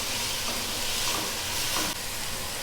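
Chicken pieces frying in a pan for chicken chow mein, a steady close hiss and sizzle that holds throughout with no talking.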